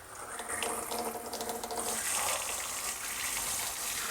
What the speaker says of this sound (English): I'm filling it from my faucet.